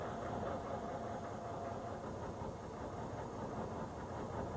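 A HMMWV engine runs roughly at idle with a fuel system problem, giving a loud, steady, close rumbling drone that holds unbroken throughout with no voices.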